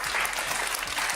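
Studio audience clapping during a Spanish television debate, a short, dense burst of steady applause from a crowd.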